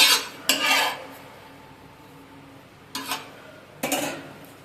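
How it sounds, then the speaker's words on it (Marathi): Oil being spread across a hot pan for an aloo paratha, with three short bursts of scraping and sizzling at the start, near three seconds and near four seconds, and quieter kitchen noise between them. "पॅन वरती तेल फिरवूया"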